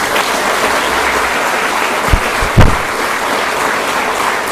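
Applause from a live audience at a Tamil motivational speech, a steady broadband wash of clapping with a couple of brief louder bursts partway through, no talking over it.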